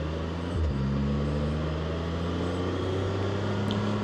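A 2024 Can-Am Spyder RT-Limited three-wheeled motorcycle drones steadily while riding, with a brief dip and shift in engine pitch about half a second in as it downshifts, then an even engine hum with wind noise.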